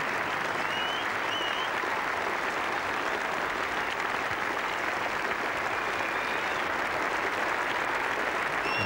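A standing cricket crowd at a 1985 England v Australia Ashes Test applauds David Gower's double century, a broad sustained wash of clapping that stays even and full for the whole stretch.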